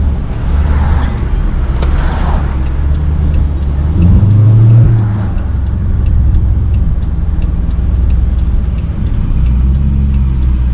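A car engine drones steadily while driving, with a brief rev rising in the middle; road rumble throughout, no voices.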